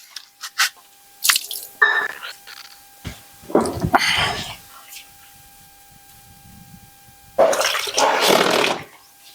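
Washed clothes being rinsed in water by hand, with splashing and sloshing in irregular bursts and drips between them, while a person talks nearby.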